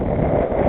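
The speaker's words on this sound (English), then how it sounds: "the wind has just decided to have a blow" Gusting wind buffets a small Leisure 17 sailboat out on the water, making a short, loud, rough rush of wind across the microphone.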